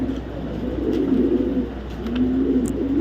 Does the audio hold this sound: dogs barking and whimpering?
no